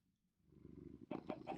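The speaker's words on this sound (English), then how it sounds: "Cat starts to purr." A cat in a video game purrs, a low continuous rumble that swells in after a quiet start and grows louder and rougher toward the end, close and alone.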